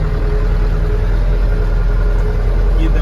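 A Skaut 404 tractor engine drones steadily and loudly while driving past a wheat field, a constant low rumble with no pauses.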